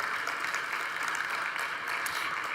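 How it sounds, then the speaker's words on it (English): Conference plenary audience applauds, a dense, steady wash of clapping from many hands filling the room throughout, with no voices over it. "I'm very happy to take a round of applause"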